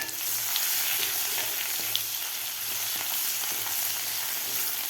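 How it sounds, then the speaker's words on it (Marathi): Cumin and mustard seeds crackle and sizzle in hot oil for a potato curry, a steady close frying hiss with scattered tiny pops and faint stirring clicks. "जिरे आणि मोहरी आपली व्यवस्थित फुललेली आहे."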